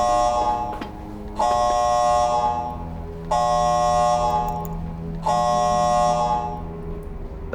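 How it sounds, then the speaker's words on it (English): A major incident alarm in an office, three loud identical electronic buzzer blasts of about a second and a half each, separated by short gaps, with a low hum underneath. "The major incident alarm has sounded."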